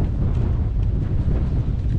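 Strong wind rushes and buffets a microphone outdoors on a small creek during spring crappie fishing, a loud, continuous low roar with no voices.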